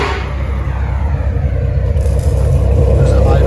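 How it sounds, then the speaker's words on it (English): A 2004 Dodge Ram SRT-10's V10 engine idles close by through dual MagnaFlow exhausts, a deep, steady, throbbing rumble that holds even and loud throughout. "There's an idle"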